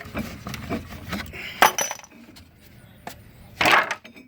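Metal tools from a homemade brake caliper press being pulled free, a series of light clinks and knocks with two sharper metallic clatters, close and fairly quiet.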